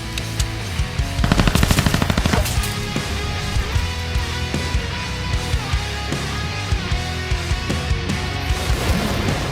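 Gunfire at an outdoor shooting range. A rapid burst of sharp shots rings out over a loud, steady background, followed by further spaced reports through the rest of the clip.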